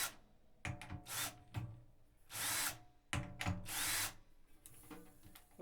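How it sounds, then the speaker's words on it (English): Power drill backing screws out of a snare drum, with several short whirring bursts and rattles at close range between brief pauses, fairly quiet overall. "So I'll take the screws out first."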